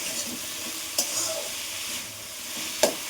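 Onions frying in a pan for Bengali egg poppy-seed curry, a steady soft sizzle with a couple of sharp scraping stirs of the utensil against the pan, close and fairly quiet, no talking.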